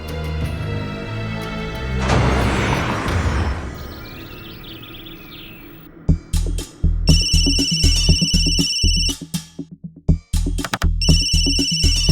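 An electronic ringtone repeats in a bright, regular pattern, loud and close, following a burst of noisy sound at the start.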